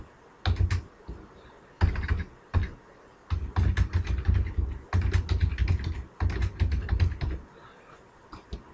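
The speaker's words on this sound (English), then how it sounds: "I'm simply going to type it in." Typing on a computer keyboard to enter data into an Excel sheet: close, clicky keystrokes in quick bursts separated by short pauses.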